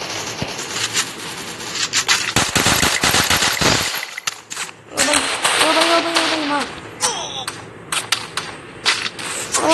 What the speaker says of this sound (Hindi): गोलियां कौन मार रहा है पागल है क्या तुम?